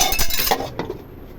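A lid set onto a pot of fish curry, giving a bright metallic clink and rattle up close, followed by a softer knock and then quiet.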